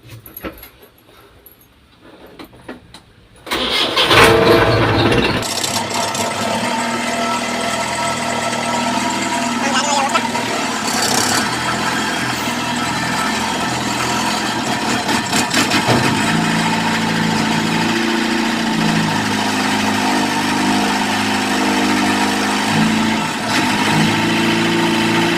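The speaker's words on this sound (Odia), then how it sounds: "ବର୍ତ୍ତମାନ ଗାଡ଼ି ଷ୍ଟାର୍ଟ କରିବା।" A JCB backhoe engine cranks and starts after a few quiet seconds, then settles into a steady, loud diesel idle that runs on with a constant rumble, heard up close.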